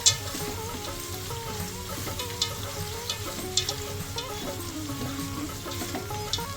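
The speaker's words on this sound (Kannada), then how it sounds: "ಈ ಟೈಮಲ್ಲೇ ಹಸಿಮೆಣಸಿನ್ಕಾಯಿ ಹಾಕ್ಬೇಕು" Green chillies frying in a pan for mandakki oggarane, made with puffed rice, a soft continuous sizzle with occasional light clicks and stirring scrapes, fairly quiet throughout.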